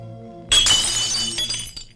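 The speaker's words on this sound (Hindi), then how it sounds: "कुछ नहीं, ग्लास टूट गया।" A drinking glass shatters with a sudden bright crash, followed by scattered tinkling fragments settling over about a second and a half; no speech.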